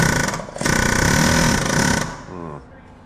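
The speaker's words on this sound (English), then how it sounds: "assault impact this thing until this flare is flattened back out" A pneumatic assault air hammer pounds a bent axle flare on an old Ford F150, a loud, fast continuous rattling burst that stops after about two seconds and is followed by quieter clanking.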